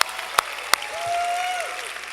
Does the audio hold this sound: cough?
no